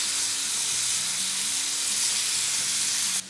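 A thick côte de bœuf sears in a hot pan with garlic added, giving a loud, steady, broadband sizzle that holds unbroken for about three seconds, alone with no talk.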